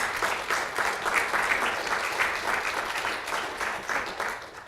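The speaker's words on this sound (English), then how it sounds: "Let's give her a big round of applause." An audience gives a big round of applause after a talk on affective computing in soaring flight, dense steady clapping from many hands throughout, moderately loud and even, with no speech.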